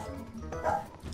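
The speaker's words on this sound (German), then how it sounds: "mein Hund bellt schon wieder in meiner Aufnahme" A dog gives a quick, faint bark, a single short outburst lasting about a second.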